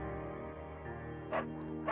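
Beagle barking in the video game Firewatch, two short yips near the end over a steady humming game background, faint and brief.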